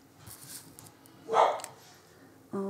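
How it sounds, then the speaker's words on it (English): Household dogs bark in a short excited burst, fairly close and loud, with a further yip or bark starting at the end. "Oh, there's the dogs wanting their walk."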